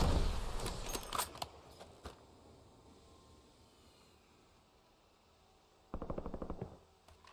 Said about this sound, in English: We're going to shoot that radar dish.